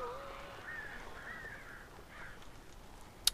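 Crows cawing in the video game Alan Wake, several faint, drawn-out caws spread over a few seconds against a quiet background, ending with a brief sharp click.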